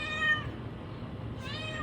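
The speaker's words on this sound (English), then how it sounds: "My cat is on the floor." A house cat meows twice indoors, a short cry at the start and another near the end, fairly close and clear against a quiet room.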